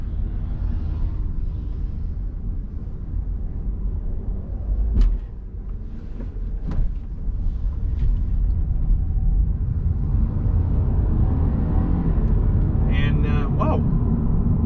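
Mitsubishi Evo driven in sport mode after a gearbox flash, its engine a low steady rumble from inside the cabin with a couple of brief clicks and a voice talking over much of it.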